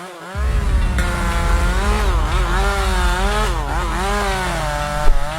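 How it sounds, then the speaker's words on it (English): A chainsaw runs steadily at close range, its rasping engine drone holding loud and continuous with slight rises and dips in pitch, and no talking over it. "the guy had a chainsaw."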